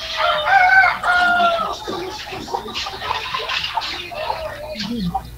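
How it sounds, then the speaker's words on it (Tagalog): Chickens cluck and a rooster crows loudly up close, several birds overlapping, with a person speaking faintly underneath. "Manok po kasi yung naririnig namin."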